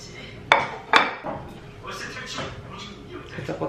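Plates and dishes clink together at a barbecue meal, two sharp ceramic knocks followed by softer handling sounds, with people talking nearby.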